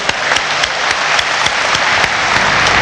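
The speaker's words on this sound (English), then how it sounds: "I think we should give them an applause." An audience breaks into loud, sustained applause, a dense, even wash of clapping with sharp individual claps standing out throughout.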